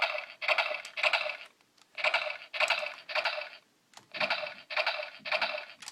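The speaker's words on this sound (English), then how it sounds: "I think it is the sound of armor being put on" A DX Kabuto Zecter toy plays its electronic armor-on sound effect as a series of bright, crackling bursts in quick clusters with brief gaps between them. The effect is fairly quiet and has no voices over it.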